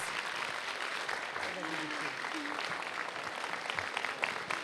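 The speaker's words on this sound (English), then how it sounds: "give Emad a huge applause." Applause from an audience for a guest named Emad, a steady broadband patter of many hands at moderate level, with a few faint voices talking underneath.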